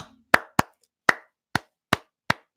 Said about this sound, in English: Let me give you that McDermott clap.